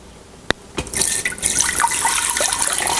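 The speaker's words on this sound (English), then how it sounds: "Now we're going to add 2 cups of water" Water pours into an Instant Pot after a clink, a steady splashing stream that runs for a few seconds with no talk over it.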